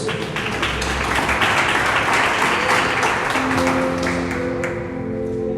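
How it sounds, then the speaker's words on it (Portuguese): A church congregation applauds at a sermon, dense sustained clapping filling the whole stretch at steady loudness, with a held musical tone rising underneath toward the end. "Vamos aplaudir a palavra de Deus?"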